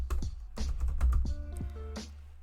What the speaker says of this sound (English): So let's type.